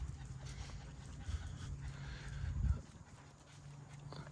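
A dog pants softly and close by, with a faint jingle of its collar tags in a quiet room, rising briefly as it moves nearer.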